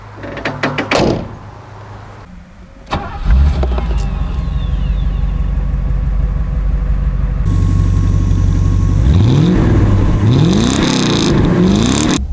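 Mercedes W126 pulls away after a door thud, its engine rising in repeated revving sweeps as it accelerates through the gears, loud and close with no talk.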